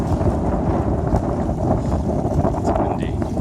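Strong wind gusts across a microphone on a lake during breezy sailing weather, a loud, steady roar with low rumbling buffets throughout and faint water or boat noise beneath.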